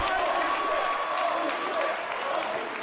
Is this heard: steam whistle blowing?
no